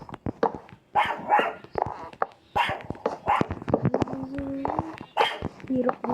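Dogs bark and whimper repeatedly in short bursts, mixed with talking voices and some whining tones, close and lively, while someone plays Minecraft.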